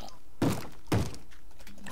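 Zombies in the Minecraft video game bang on a wooden door with two heavy, hollow thuds about half a second apart, loud and close, followed by fainter knocks.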